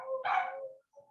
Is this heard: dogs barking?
yes